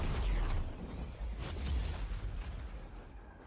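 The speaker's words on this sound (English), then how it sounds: "Just exploding everywhere." Explosions in the Battlefield 2042 reveal trailer rumble as low, muffled booms and a whooshing blast, quiet and distant-sounding, rolling over a few seconds with no talking.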